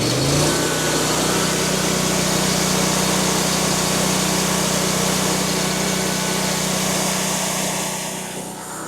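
Car engine held idling at a set RPM, a steady low hum with high-pitched whine running evenly and loud throughout, easing off slightly at the very end.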